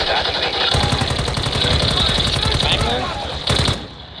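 BAS-B battle rifle in Call of Duty Warzone Mobile fires a fast, steady run of loud shots over a rumbling game backdrop, closing with a short final burst.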